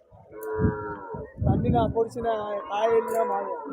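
At a weekly cattle market, a large cow gives several drawn-out moos close by, each rising and falling, while a voice can be heard talking alongside.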